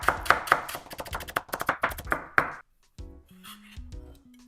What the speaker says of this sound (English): the other scallion I'm just gonna cut into pieces and cut into slices